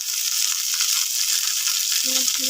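Potatoes and vegetable stalks frying in oil in a pan, a loud close steady sizzle that hisses on without a break, with a couple of short tonal beeps near the end.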